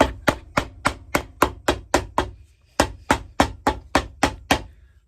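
A hammer strikes a Ferragamo slip-on shoe during repair: about seventeen crisp, evenly paced blows, close and loud, broken by one short pause midway.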